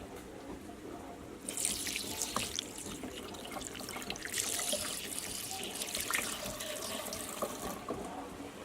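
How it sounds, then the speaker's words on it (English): Hands are washed under a running sink tap: a steady splash of water that swells louder as the hands move through the stream, then eases as the flow continues. "I'm gonna wash my hands."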